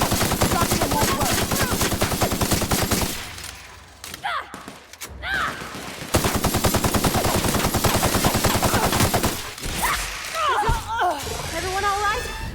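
Rapid sustained gunfire in The Outer Worlds, loud and dense bursts broken by short gaps, mixed with game creature roars and brief spoken voices.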